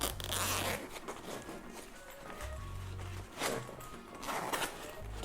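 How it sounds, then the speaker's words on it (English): A zipper on a Code Of Bell X-Pak sling bag's main compartment being pulled open, several close, loud raspy zip strokes in quick succession with no talk. "the other main compartment is accessible by this zip here."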